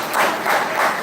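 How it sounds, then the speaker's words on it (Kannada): An audience at a college event on intellectual property rights breaks into dense, steady applause, with many hands clapping together in a continuous wash that fills the whole moment. "ಬೇಗ ಚಪ್ಪಾಳೆ ತಟ್ಟಿ"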